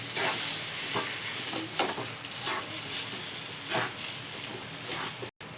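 Chutney with coriander gets stirred in a pan, a continuous sizzling hiss with repeated soft scraping strokes of the spoon, close and steady, with a brief cut near the end.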